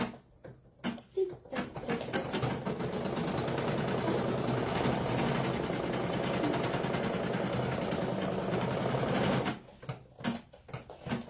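Sewing machine stitching the fabric ears of an in-the-hoop Easter bunny basket, a steady fast mechanical whir running close and continuous for several seconds before stopping.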